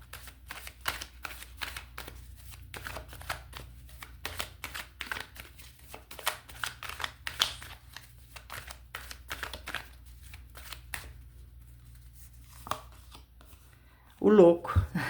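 Tarot card decks being shuffled by hand: rapid, rhythmic riffling and slapping bursts repeat across the span, with a voice speaking briefly near the end.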